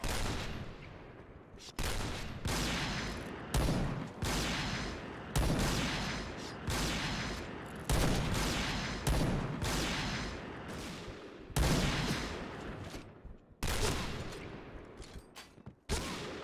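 Bursts of rapid gunfire from the online shooter Point Blank, about nine loud separate volleys, each with a sharp crack and a short fading tail, spread evenly one after another.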